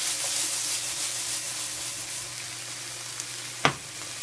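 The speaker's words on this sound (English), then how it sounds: "We're sautéing some shallot and some mushrooms" Lamb kidneys, shallot and mushrooms sautéing in a pan give a steady, close sizzle and fry that runs throughout, with a sharp clack of a utensil near the end.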